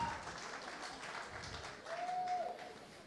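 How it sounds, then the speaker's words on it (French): Crowd applause fills the hall at the Miss Haiti 2022 pageant final, sustained clapping that swells slightly toward the end, with a brief tonal whistle or squeal cutting through midway. "On applaudit, s'il vous plaît."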